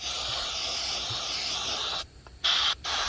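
An aerosol can of gun cleaner hisses steadily into the mechanism of an XDM Elite 10mm pistol, with a brief pause and then two short, close bursts near the end.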